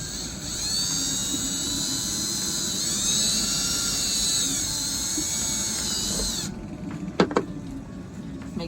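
A power drill bores a screw hole for a switch plate aboard a Morgan 41 Out Island sailboat, a steady high whine running for several seconds before stopping, followed by a few brief clicks and knocks.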